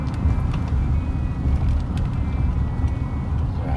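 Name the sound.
car driving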